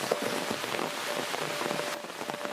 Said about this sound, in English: Do something about the rain.